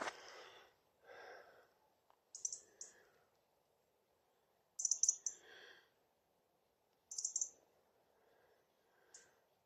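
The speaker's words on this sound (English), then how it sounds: "That's a juvenile robin, I think, by the sounds of it." Short, high chirping calls from a juvenile robin come in scattered bursts over a quiet, low background hum, fairly close and clear, at RSPB Fowlmere, Cambridge.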